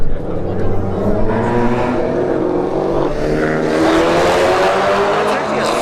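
A Honda Civic Type R and a Camaro SS run a street drag race at Bradenton Motorsports Park, engines roaring loudly and continuously as they rev and accelerate, with an announcer talking over the noise.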